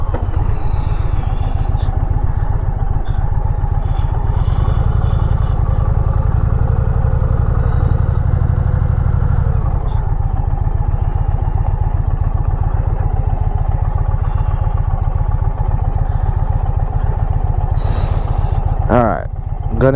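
An Indian Pursuit Limited motorcycle engine idles and putters at low speed as the big bike is turned around, a steady, close, deep rumble throughout, with a voice talking over it.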